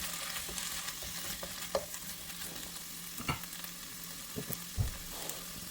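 Boiled chicken breast being sautéed in a pan: a faint, steady sizzle with occasional scrapes and clinks of a utensil stirring against the pan.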